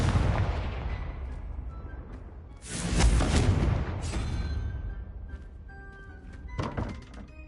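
The Confringo blasting spell cast in Hogwarts Legacy lands as a heavy, booming blast midway, with a rumbling decay and lighter thuds before and after.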